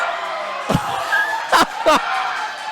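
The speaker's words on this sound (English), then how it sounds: "Y'all hear that, crowd?" Crowd at the Miami Defrost esports LAN event lets out several sharp bursts of cheering and whooping over a busy hall murmur, loud and close.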